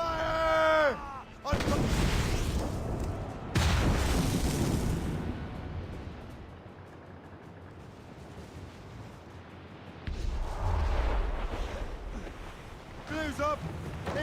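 Heavy cannon fire and explosions in a naval battle from the video game Assassin's Creed Rogue: loud booming blasts come in separate bursts with rumbling gaps between them. Raised voices can be heard near the start and the end.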